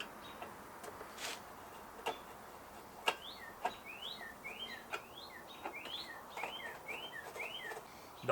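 A bird chirps outside in a quick, repeated series of short, fairly faint calls, along with scattered light ticks and clicks nearby.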